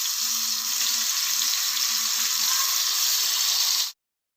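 Chicken tikka in a pan over a low-medium flame gives a steady, close sizzle and frying hiss that holds evenly with no talk, then cuts off abruptly near the end.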